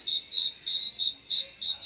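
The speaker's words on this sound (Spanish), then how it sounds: "así es como se escucha el cantar de los grillos" Crickets chirp at dusk in Axtla de Terrazas, Huasteca Potosina, Mexico, in steady, evenly spaced pulses of high-pitched trilling, a continuous insect chorus with no voices.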